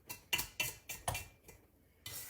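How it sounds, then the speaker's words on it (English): A utensil stirs stiff whipped cream in a KitchenAid mixer bowl while making banana pudding, giving a series of distinct scraping clinks against the bowl in an uneven rhythm, quiet and close, with no talking. "But I want to kind of stir it up and make sure that I've got the whipping cream all."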